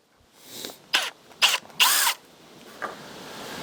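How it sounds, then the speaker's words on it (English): Power drill whirring into a diamond willow walking stick, several short loud bursts of a second or so each, separated by brief pauses, close up with no talking. "So what we're going to do is we're going to take this drill"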